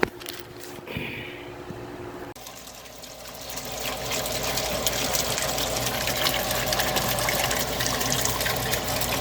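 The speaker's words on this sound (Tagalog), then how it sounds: "Ayos na uli ang pump mo." A submersible water pump, just repaired with a new capacitor, kicks on and water gushes steadily, the flow building and holding as a continuous rushing noise after a few clanks at the start.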